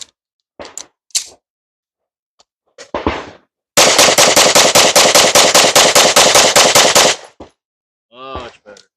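A Sig P365 X Macro pistol fires a rapid, evenly spaced string of about twenty loud shots over roughly three seconds, preceded and followed by a few isolated clicks and handling noises.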